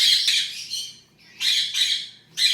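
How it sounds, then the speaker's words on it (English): A pet macaw squawks loudly and close by in harsh, raspy bursts, three long calls separated by short pauses, with no talking over them. "my macaw doesn't like staring"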